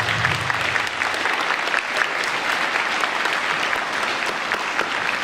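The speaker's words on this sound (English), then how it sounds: "Please give them a round of applause." School audience at a middle school head-shaving event applauding continuously, a dense steady wash of clapping with no talk over it.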